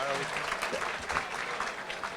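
An audience at an annual chamber awards dinner claps steadily as the master of ceremonies takes the stage, a dense wash of applause that carries evenly for the whole moment.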